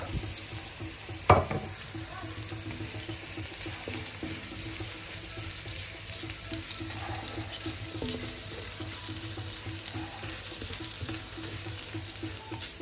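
Crickets stir-fried with lemongrass in a pan for a Thai dish: a steady, moderately quiet sizzle with one sharp clatter near the start and no talking.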